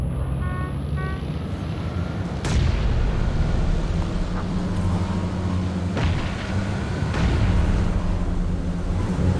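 Grenade explosions in a PUBG vehicle-only destruction derby mode, loud booms at intervals over a steady engine-like rumble and background gunfire.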